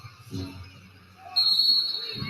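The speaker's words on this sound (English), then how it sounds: "I heard whistles" A referee's whistle blows during a professional basketball game between the Rockets and the Timberwolves. It gives a single sustained shrill tone over the crowd and court noise of an arena broadcast.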